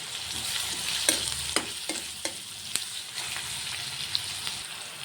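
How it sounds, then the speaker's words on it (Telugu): Onions seasoned with rock salt fry steadily in a pan with a constant close sizzle, while a spoon scrapes and taps against the pan at irregular moments as they are stirred, with no voices. "ఇది కొంచెం ఫ్రై అవ్వాలి."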